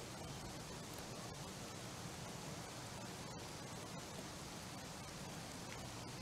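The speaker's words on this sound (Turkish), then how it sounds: "Hava yağmurlu gerçi" Steady rain in the video game Car Dealership Simulator, a faint, even hiss of falling water that holds constant throughout with no breaks.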